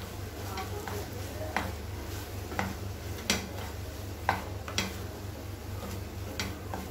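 A spoon stirs and scrapes soya momo stuffing in a pan as chilli sauce and vinegar are mixed in. Sharp clinks and taps come at scattered intervals over a steady low hum.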